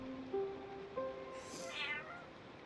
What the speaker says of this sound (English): So you are just an ordinary kitty